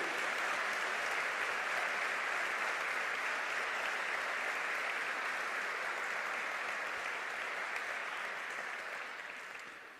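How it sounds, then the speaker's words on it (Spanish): A church congregation applauds loudly and continuously during a sermon, a dense even roar of clapping that holds for about nine seconds before starting to fade. "Esto sí es para aplaudir"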